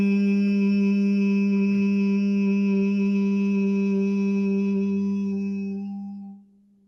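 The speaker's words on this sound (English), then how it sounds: "take a deep breath, and then hum deeply and intensely without stopping." A single deep, continuous human hum holds a steady low pitch with a rich buzzing tone for several seconds, then fades out as the breath runs out.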